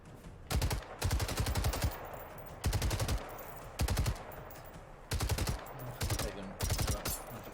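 Bursts of rapid automatic gunfire from weapons in the video game Generation Zero, several sustained volleys and short strings of shots, loud and close in the mix with faint background game sound between them.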